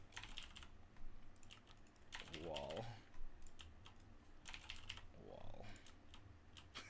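Quick bursts of computer keyboard typing mix with faint, brief voice sounds during a Minecraft session, the key clicks coming in clustered runs with short gaps.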